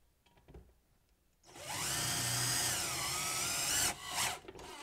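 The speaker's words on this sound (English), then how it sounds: "I'm going to drill them in," A power drill drives screws into a screen printing press during assembly, a loud sustained motor whine lasting over two seconds with pitch dips, then short bursts as it stops and restarts, after a quiet start.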